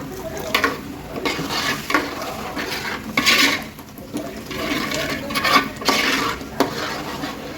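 Water poured into a pan of egg masala curry and stirred, with spoon scraping and liquid sloshing in bursts, close and fairly loud, no talking.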